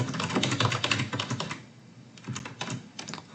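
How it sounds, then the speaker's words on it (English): Quick bursts of typing on a computer keyboard, clustered rapid key clicks in two runs separated by a brief pause, close and fairly quiet with no talking. "just quickly type that up."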